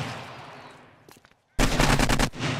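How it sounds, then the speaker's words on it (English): AK rifle fired in the zombie survival game 7 Days to Die: a sharp rapid automatic burst of about a second and a half, loud and close, after a few scattered softer shots and fading ambience. "Show the destruction of the AK on them."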